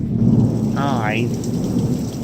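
Thunder rumbles low and heavy through a summer thunderstorm, layered over steady rain pattering on surfaces, with a continuous loud wash of storm noise and no speech.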